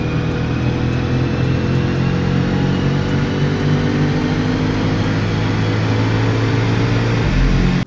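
A BMW G90 M5 runs hard on a chassis dyno, its engine a loud, sustained roar held at high revs with a steady droning tone before cutting off abruptly at the end.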